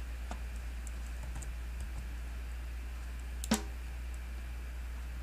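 Computer keyboard key presses while entering drum notes in MuseScore notation software, a few faint scattered clicks over a steady low hum, with one sharper louder tap near the end.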